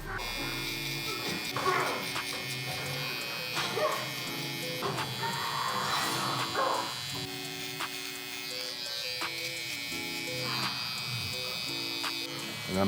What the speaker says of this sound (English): now I'm gonna take my SnapFX trimmer. We're gonna go ahead and set in our bald line.